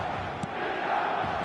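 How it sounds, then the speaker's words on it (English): Stadium crowd noise from a football video game, a steady broad roar with murmuring and scattered shouts, moderately loud and continuous with no clear peak of excitement. "the crowd have tried to spark some excitement, but to no avail"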